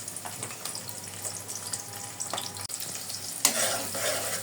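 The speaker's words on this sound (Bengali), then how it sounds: "এখন রান্না করব। এই যে দিয়ে দিচ্ছি পেঁয়াজ কুচি" Chopped onion sizzling in a pan, a soft steady frying hiss with light stirring, then a sudden louder burst of sizzle near the end.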